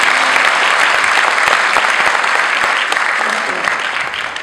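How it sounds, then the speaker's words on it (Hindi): Loud, sustained applause from an audience thanking the sponsors of an event, a dense wash of clapping that holds steady for several seconds and eases slightly toward the end. "मैं चाहूंगा इन सबके लिए जोरदार तालियां बजाएं"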